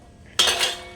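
Dishes, pots and utensils clink and clatter in a sudden close burst of metallic rattling that rings on briefly and then fades, with no voices.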